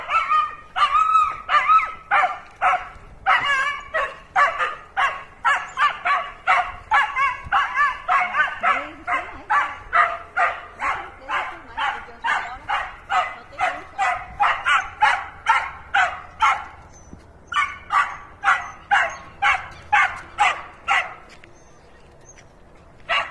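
Dogs bark loudly and persistently in a rapid, steady series of close sharp barks and yips in a backyard, with a brief pause before the barking resumes.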